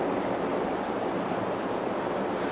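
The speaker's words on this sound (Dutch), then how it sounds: "De wind." Steady broadband rush of sea waves and wind on a beach, continuous and fairly loud throughout, with no voices.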